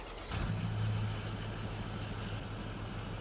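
Tractor engine in a farming video game, turning over with a brief rise then settling into a steady low mid-range running hum, close and continuous with no talk.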